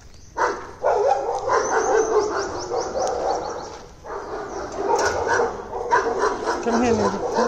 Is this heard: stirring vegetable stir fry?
no